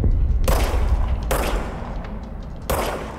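Three heavy gunshots from a weapon in the video game Control, spaced over about three seconds, each a sharp broadband burst that decays into a low rumbling tail, loud and close with no talk over them.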